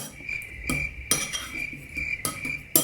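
A utensil stirs a mixture in a bowl in a home kitchen, with clinking strikes against the bowl at irregular intervals, close and fairly loud, over a steady high insect-like tone.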